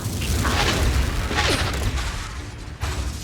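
A Confringo blast spell explodes in Hogwarts Legacy with a heavy, loud boom and crackling burst, followed by lingering rumble and mechanical clatter as the blast fades.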